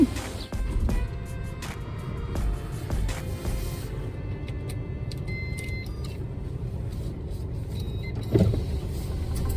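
A car drives along a road with a steady engine and road rumble, continuous and close, with small interior clicks and a brief louder bump near the end.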